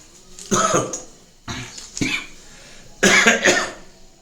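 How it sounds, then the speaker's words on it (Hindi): Several harsh coughs in quick bursts, close and loud, coming in three clusters with short pauses between them. "मुझे भी खांसी आ गई"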